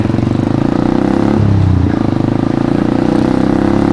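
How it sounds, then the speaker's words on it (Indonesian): A custom motorcycle left unused for two months runs close and loud at a steady idle, its engine note carrying a constant clattering, rattling undertone from something loose. "Ini aja banyak bunyi gak jelas tahu di motor gue."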